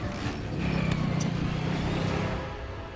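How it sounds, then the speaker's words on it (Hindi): A car pulls off and drives away, its engine rising to a steady low drone before fading, heard fairly loud and close with no talk. "एक काम करते हैं, गाड़ी दूसरे रास्ते से निकालते हैं।"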